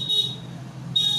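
Multimeter continuity tester beeping on a shorted capacitor in a Moto XT1762 phone: two steady, high-pitched tones, one at the start and one near the end, over a faint low hum.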